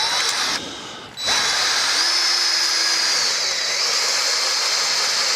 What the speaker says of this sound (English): And we'll drill just a little bit.